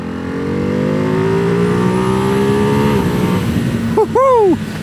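A 2024 Ducati Hypermotard 698 Mono single-cylinder supermoto accelerates nearby, its engine note climbing through gears in rising drones, then a brief whooping voice breaks in near the end.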